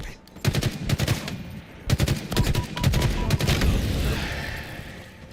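Rapid bursts of gunfire from a first-person shooter video game, loud and close, with clustered volleys separated by short pauses and a lingering rumble near the end.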